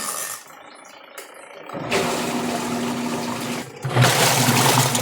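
An LG automatic washing machine, converted to manual control, fills with water at the start of its wash cycle: a quiet start, then a steady loud rush of inflowing water with a low motor hum, swelling further near the end.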